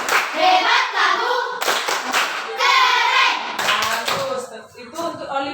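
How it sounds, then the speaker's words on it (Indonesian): A classroom group claps a rhythmic praise clap in unison, the sharp claps running in patterns alongside children's voices chanting and talking throughout. "Oke, tepuk hebat."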